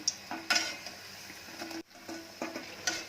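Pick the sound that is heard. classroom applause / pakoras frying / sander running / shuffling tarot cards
pakoras frying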